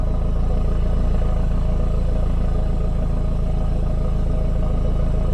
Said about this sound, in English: I'll give you the sound of the exhaust.